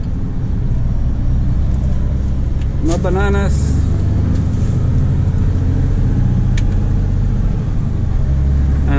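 A Mercedes Actros truck with a 410-horsepower V6 engine pulls uphill, its loud, steady low rumble droning throughout while someone talks briefly over it.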